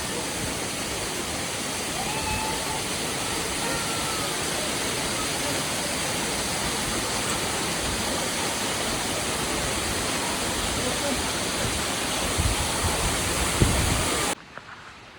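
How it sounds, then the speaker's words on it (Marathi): A waterfall on a misty, rainy Sahyadri mountain trail gives a steady, loud, broadband roar of rushing water that holds unchanged throughout, with the faint sound of a person near the end. "मध्यवाटी आल्यावर आम्हाला एक वॉटरफॉल भेटलेला आहे"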